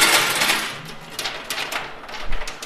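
Coins clattering and dropping inside a coin pusher arcade machine, a busy stream of small metallic clinks and rattles, fairly close and continuous, with no talk.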